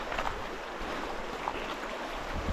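Steady broadband rush of flowing creek water with a current suitable for smallmouth bass, continuous and fairly close, with no voices over it.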